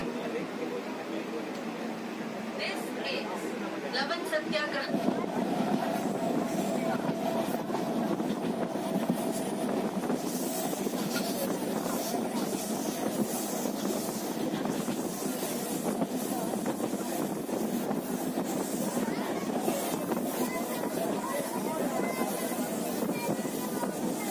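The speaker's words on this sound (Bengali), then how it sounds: "এই মুহূর্তে আমাদের ট্রেন নাচিন্দা স্টেশনে প্রবেশ করছে" A local train on the Santragachi to Digha line enters Nachinda station, rumbling steadily with rushing wind and rattling carriages, a continuous loud roar that barely changes, with faint voices briefly near the start.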